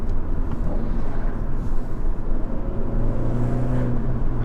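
A 2017 Abarth 595 Competizione engine drones steadily while driving, a loud, continuous low rumble heard from inside the car with no breaks.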